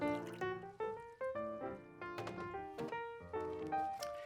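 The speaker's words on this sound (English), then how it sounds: "I'll pour that into my vase." Floral nutrient water is poured into a vase, giving a run of bubbly, rising-pitch glugs in quick succession, close and clear, with no talking.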